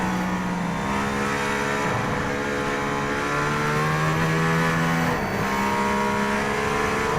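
A Mercedes-AMG ONE hypercar accelerates hard along a straight, its engine note climbing steadily in pitch and dropping abruptly at two quick gear changes before rising again, loud and continuous throughout.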